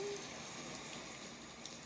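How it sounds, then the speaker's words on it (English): Steady rain falls as a dense, even hiss, continuous and fairly faint, with no talking. "Just listen to the rain."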